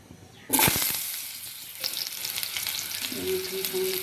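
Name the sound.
potatoes frying in oil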